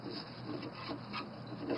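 A lawn mower's pull cord slowly winds back into its recoil housing, a steady, close rubbing rasp that stays fairly even and quiet throughout, with no talk.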